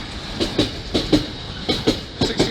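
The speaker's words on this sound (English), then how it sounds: "the train now approaching platform number 1 is the 1558 2 Lima 43" A train pulls into a station platform at Basingstoke, its wheels striking rail joints in regular paired clickety-clack beats, close and moderately loud, repeating steadily as the carriages roll past.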